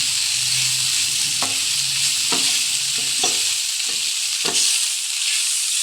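Macaroni frying in a pan while a spoon stirs it briskly: a loud, steady sizzle punctuated by regular scraping strokes about once a second.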